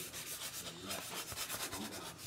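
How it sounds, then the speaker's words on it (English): A power sander rubs the edges of a wooden door sign to weather it, making a steady, close, even grinding hiss with slight rhythmic pulsing and no talking. "just hitting my edges with the sander, just to kind of give it a little bit more weathered look"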